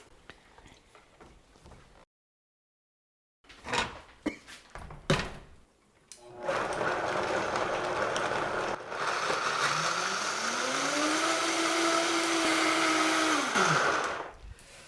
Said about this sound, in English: I will blend this mixture.